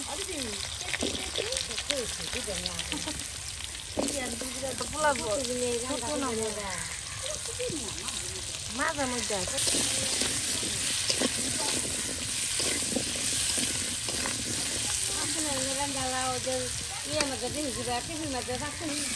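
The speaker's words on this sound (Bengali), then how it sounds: "এই যে আলুগুলো কিন্তু এই যে তেল ভেজে নেওয়া হচ্ছে হাঁসের মাংস রান্না করার জন্য" Potatoes frying in oil for a duck meat curry, a continuous crackling sizzle under a woman's frequent speech, with occasional stirring noises.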